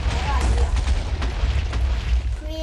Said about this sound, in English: creating my own explosion